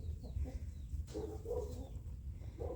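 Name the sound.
rooster crowing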